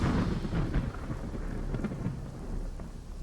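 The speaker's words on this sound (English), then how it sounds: "The storm began to subside, and the rain got lighter." A dramatized thunderstorm rumbles with deep, rolling thunder over a dense wash of heavy rain, loud and continuous throughout, with no voices.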